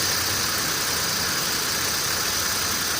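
A car engine runs at a smooth, steady idle after an injector replacement that fixed a misfire and rich fuel trim fault, a loud continuous close-up drone with no talking.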